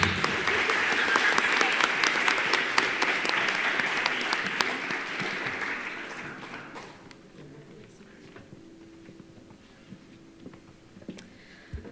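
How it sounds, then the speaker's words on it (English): Audience applause at an Arangetram dance recital, a dense sustained clapping from a large crowd that fades gradually over several seconds into scattered claps and quiet room noise. "Let's give them a big round of applause."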